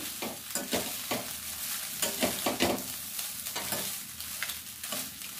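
A carrot and sweet corn mixture is stirred in a frying pan, a spoon scraping in repeated strokes over a soft sizzle, close and moderately quiet with no talking.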